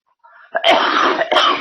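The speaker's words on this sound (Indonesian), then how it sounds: "Aduh, batuk lagi." Two harsh, close coughs in quick succession, loud and raspy, with no speech.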